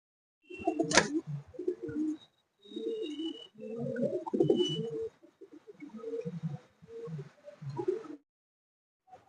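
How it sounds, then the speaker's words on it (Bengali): Malwai pigeons cooing at a large loft in Surjapur, Kolkata, a series of close, soft coo phrases broken by short pauses, with faint higher chirps. "আর একজোড়া পায়রা দেখছি"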